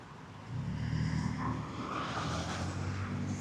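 Hollywood street traffic, a broad steady rumble of passing vehicles with a low engine drone rising after a brief quieter start, fairly close and continuous, with no talk.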